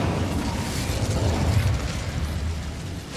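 Incendio fire spell cast in the video game Hogwarts Legacy: a loud, sustained fiery whoosh and rumbling burst with mechanical crackle, fading slightly toward the end, no talking.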